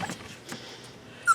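A seven-week-old Australian Shepherd and Catahoula mix puppy gives a few faint whimpers and soft yips indoors, followed by one brief, sharper squeak near the end.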